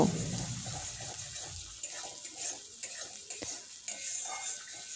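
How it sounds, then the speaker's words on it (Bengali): Spice masala for doi katla is stir-fried in a pan, a soft sizzle under scraping and stirring strokes from a spatula, close and uneven, with a louder rumble at the start. "সমস্ত মশলা আমি খুব ভালোভাবে কষে নেব"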